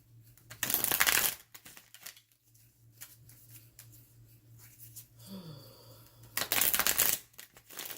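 Tarot cards are shuffled in two quick, crisp bursts of riffling, with quiet handling in between and a brief soft sound in the middle.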